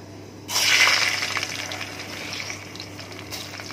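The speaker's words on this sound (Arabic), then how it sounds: "بستنى عندي اما الزيت يسخن قوي، احط شويه رز" Rice dropped into very hot oil in a pan, bursting into a loud sudden sizzle that fades to a steady crackling hiss, close up.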